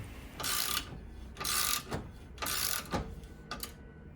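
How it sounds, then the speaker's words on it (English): Metal sleeves being pressed into Mercedes W210 rear control arm polyurethane bushings using a vise and puller: four bursts of grinding, creaking strain with short pauses between, close and fairly quiet, no speech. "With the vise and only the puller, I was able to press in these sleeves into the control arms."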